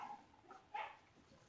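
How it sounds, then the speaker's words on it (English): A dog barks and whimpers faintly in the background of a room where a Norinco NP 34 pistol is being taken apart, with a couple of short, soft yelps rising and then fading. "just my dog in the background there"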